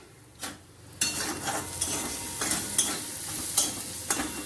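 Onions fry in a pan with a steady sizzle while a spatula scrapes and stirs them in sharp strokes every second or so, close and fairly loud.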